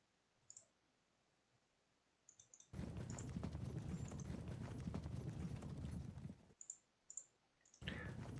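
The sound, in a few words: horse cavalry countercharging in Pike and Shot video game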